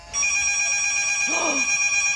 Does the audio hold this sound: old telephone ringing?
yes